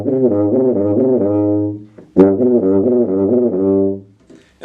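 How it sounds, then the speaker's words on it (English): A tuba plays quick lip slurs starting in its higher range and dropping by a fifth or third, two rapid repeated phrases separated by a short breath pause, full and resonant, solo. "I'll move on to a lip slur that starts usually in the higher"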